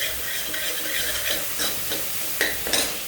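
A spoon stirs a pounded garlic and red chutney masala in a hot pan, with a steady sizzle and hiss under repeated scraping strokes and a couple of sharper clinks near the end, close and fairly loud, with no talking.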